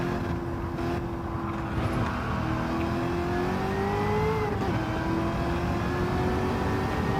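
A 1978 Pontiac Firebird with a swapped engine in Gran Turismo 7 holds a steady rev, its harmonics rising smoothly in pitch, dipping briefly at a shift, then climbing again; loud and continuous, with no talking.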